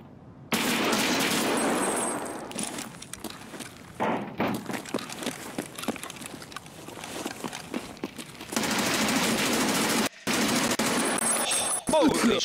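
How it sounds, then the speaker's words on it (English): Gunfire in the video game Escape From Tarkov, with dense bursts of loud shots filling most of the stretch and brief pauses between volleys. "We got shot from behind."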